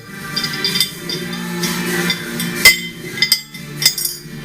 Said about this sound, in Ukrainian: першим ділом ми туди запихаємо всередину болт. Разом з шайбою.